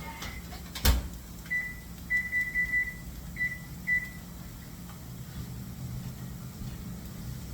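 A kitchen oven control being set to 375 degrees gives a series of short electronic beeps, a quick run of tones followed by a couple more, heard fairly clearly over a quiet room after a single knock.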